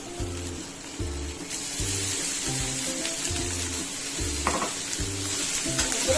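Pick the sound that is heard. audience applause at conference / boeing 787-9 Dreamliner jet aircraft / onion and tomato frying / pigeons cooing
onion and tomato frying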